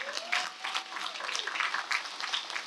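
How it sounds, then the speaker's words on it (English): Moderate applause from a seated crowd at a high school ribbon cutting ceremony, with scattered, uneven claps at medium distance and a faint voice underneath. "Stand up, give yourselves a round of applause."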